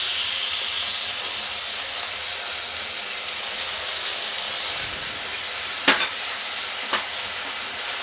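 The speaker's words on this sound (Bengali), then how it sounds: "মশলাটাকে আমি একটু ভালোভাবে ভেজে নেব" Garlic, green chili and onion paste fries in a pan with a steady, bright sizzle throughout, broken near the end by two short scraping stirs of a spatula.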